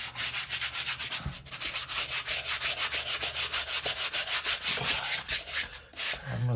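Brush scrubbing the outsole of an Adidas Tubular sneaker, quick rhythmic back-and-forth strokes, close and loud, repeating evenly without any voices.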